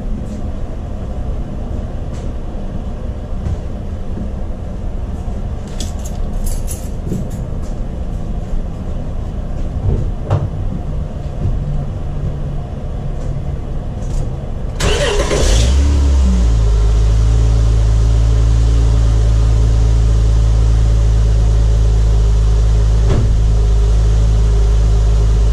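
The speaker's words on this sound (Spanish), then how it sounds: "Ahora sí, vamos a darle marcha y que todo esté bien." A Honda Odyssey minivan with a newly replaced starter sits quietly at first, then about halfway through the engine cranks briefly and catches, settling into a loud, steady idle hum heard up close for the remainder.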